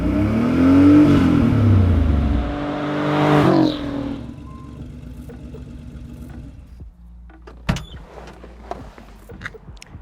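A car engine revs hard, its pitch climbing and sweeping upward through a gear change before the roar cuts off, followed by quieter clicks and mechanical noises.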